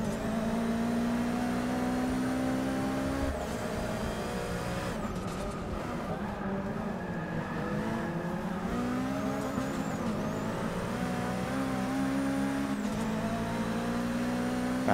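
A race car in Forza Motorsport 6 at Sebring screams through rising and falling revs with gear changes and wheelspin, a loud, continuous engine whine that dips and climbs again across the run.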